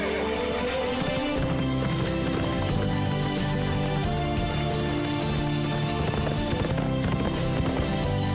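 A horse's hooves clip-clop in a steady rapid rhythm under a dense, loud cartoon soundtrack with music, and the horse whinnies along the way.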